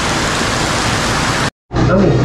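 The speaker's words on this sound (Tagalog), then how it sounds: "Lakas ng ulan ngayon dito." Heavy rain pours down in a dense, steady roar, loud and close, broken by a brief dropout before the downpour resumes.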